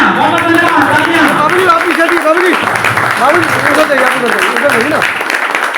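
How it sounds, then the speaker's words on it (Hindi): An audience at a political party gathering applauds steadily, with a loud amplified voice speaking over the clapping throughout. "तालियां बजाते रहे, तालियां, बहुत बहुत धन्यवाद, तालियां।"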